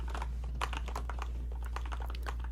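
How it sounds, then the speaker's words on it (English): Soft computer keyboard typing, a quick irregular patter of light key presses at close range over a low steady hum, with no talking. "But this keyboard is fantastic. You can hear this? So soft."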